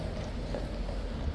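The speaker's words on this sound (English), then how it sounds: "the lifeguard horses will come back in" Hooves of the King's Life Guard horses clip-clop on wet ground, a dense, continuous patter of steps with a steady low rumble beneath.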